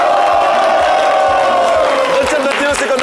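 A studio audience on a French Friday midday show cheers and makes noise at once, a steady loud roar of crowd voices and whoops that carries on without a break.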